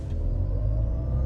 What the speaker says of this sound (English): We'll just do a launch from a standstill.